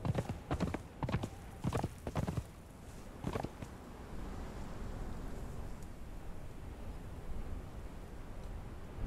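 Hooves clip-clop in a quick, uneven series of sharp knocks for the first few seconds, then fade into steady low rumbling background noise.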